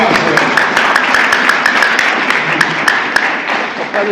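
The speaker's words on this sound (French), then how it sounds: "Applaudissez le ciel si vous pouvez" A church congregation applauds together in a dense, steady wash of clapping that carries evenly from start to finish, with sharper individual claps standing out here and there.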